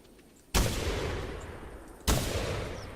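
Two loud rifle shots at a pheasant in the hunting video game The Hunter, the first about half a second in and the second about a second and a half later, each a sharp crack followed by a long rolling echo.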